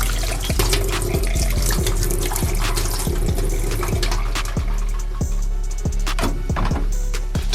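Tap water runs steadily through a kitchen sink during washing up, a continuous close hiss with repeated low clinks and knocks of dishes or utensils spaced through it, and no talking.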